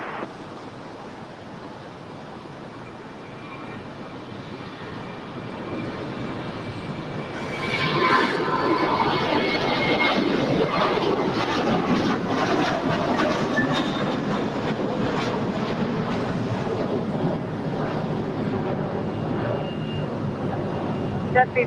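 A jet airliner takes off from runway 25 right at LAX. A steady distant roar builds into a loud, sustained rumble and swells as the aircraft powers down the runway.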